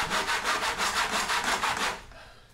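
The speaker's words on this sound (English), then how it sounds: "This is a lot of plywood to be sawing through all at once." A handsaw rips through a stacked pile of plywood in quick, even back-and-forth strokes, loud and close, about a dozen rhythmic rasps before stopping abruptly.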